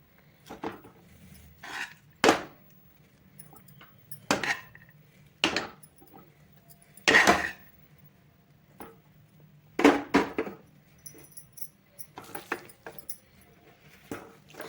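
Cooked rice is tipped into a pan and stirred for mango rice, with a metal spoon clanking and scraping against the pan in sharp, irregular knocks spread across a quiet background and no talk.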